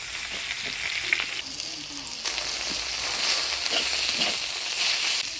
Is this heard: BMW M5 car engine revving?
no